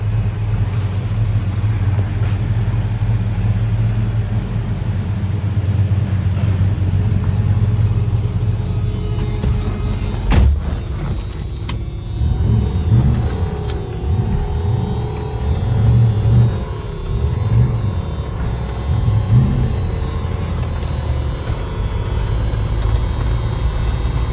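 1973 Dodge Charger SE 400 with a 4-speed, out on a cruise, a loud, close, steady engine rumble that dips briefly midway and then swells with fluctuating revs and gear-driven surges.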